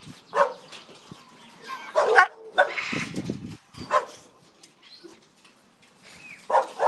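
Old English Bulldog puppies in a large pen give a series of sharp barks and yips in irregular bursts, some close and loud, others fainter, with brief whimpers between them.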